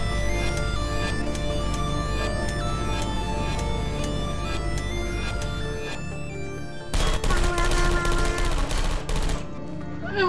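Portal 2 turrets spray bullets in rapid rattling bursts over a tonal game soundscape, with the densest, loudest volley coming near the end.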